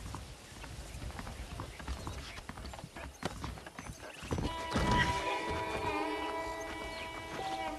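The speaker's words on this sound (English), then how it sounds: "The horses are saddled up over here." Horses clip-clopping in the Red Dead Redemption video game, a steady run of hoofbeats at a walking pace that grows louder and is joined by a whinny and tonal game sound midway.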